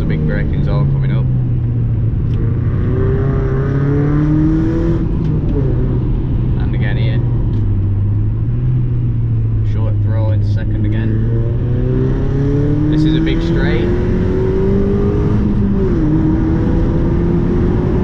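A Mazda MX5 engine drones loudly while driving in second gear on a road, its pitch rising and falling steadily, with someone talking over it.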